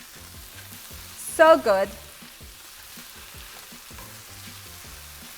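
Mushrooms sizzle and crackle in a hot pan as they are tossed and stirred, a steady close frying hiss under a brief spoken comment.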